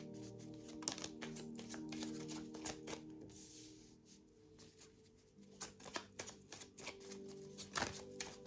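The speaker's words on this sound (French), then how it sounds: "Faire sauter les cartes." A deck of tarot cards is shuffled close up. The quick papery riffles and flutters come in bursts with short pauses between them, and no voice is heard.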